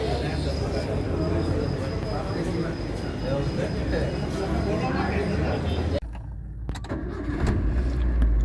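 A car engine starts on a roadside between Chotila and Dodiya crossing in the early morning, cranking into a loud steady run; after a sharp shift it settles into a smoother idle, with a voice nearby.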